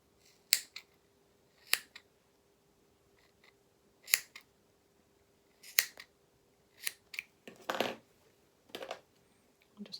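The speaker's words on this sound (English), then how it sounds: "So I'm not snipping through the neck edge of the collar, just through the facing and the actual fabric" Scissors snipping through the facing and fabric of a small jacket, about a dozen crisp, separate snips spaced irregularly and heard close up in a quiet room.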